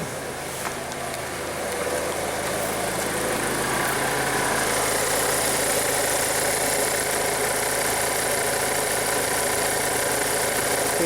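A VW Passat 1.8T turbo four-cylinder idles steadily with an overheating problem, its engine hum constant and close for the whole stretch with a faint mechanical vibration and no talking.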